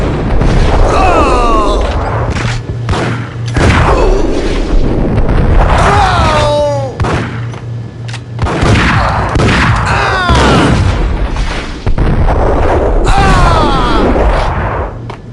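Gunfire in the Max Payne video game: repeated loud booming shots and blasts in dense bursts, close and heavy, with shouted voices and game music layered underneath throughout.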